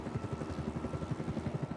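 A helicopter's tail rotor spinning, heard as a fast, steady low thumping pulse, continuous and close with no talk over it.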